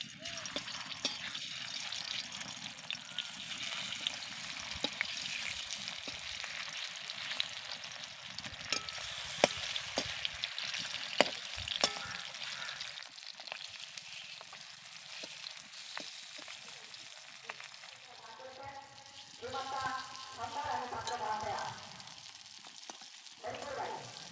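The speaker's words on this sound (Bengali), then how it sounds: "মাছগুলোকে আমি ভালো করে ভেজে নিয়েছি" Fish fry in hot oil in a pan, giving a steady crackling sizzle with bubbling and occasional sharp pops, close and moderately loud, with no one talking over it.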